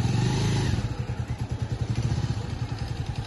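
A Bajan Avenger 220cc motorcycle engine pulses with a deep, rhythmic thumping beat, loud and close, as a beginner rider works the throttle and clutch at low speed.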